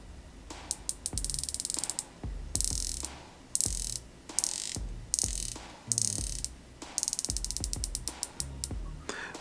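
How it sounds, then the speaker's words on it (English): Crisp, precise ratcheting clicks from the rotating bezel of a Ginault Silent Service dive watch, close and loud, coming in quick runs of rapid clicks separated by brief pauses. "Let's listen to the bezel action."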